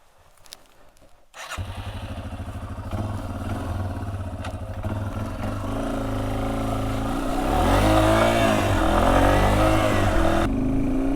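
A 2021 Yamaha TW200 motorcycle starts up and settles into a close, steady single-cylinder thump, then pulls away, revving higher as it gets underway.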